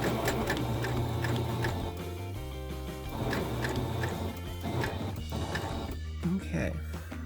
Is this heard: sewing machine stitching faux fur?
yes